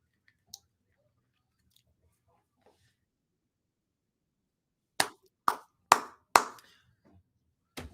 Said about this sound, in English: I just started clapping right now, like if I was in the audience.